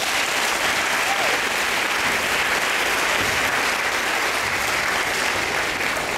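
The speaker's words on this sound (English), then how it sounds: "So let's give them a round of applause." A crowd at a Hy-Vee IronKids kids' triathlon awards ceremony in Rochester breaks into sustained, dense applause, a steady wash of many hands clapping throughout.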